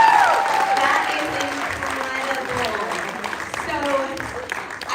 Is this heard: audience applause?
yes